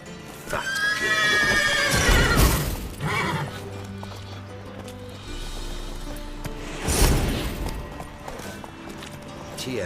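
Agitated horses in The Witcher 3 let out two loud, drawn-out whinnies a few seconds apart amid clopping hooves and shuffling, with game ambience beneath and brief voices in between.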